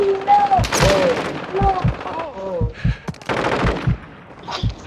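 Rapid bursts of close machine-gun fire in Warzone 2.0, sharp repeated cracks in clusters, mixed with excited talking throughout.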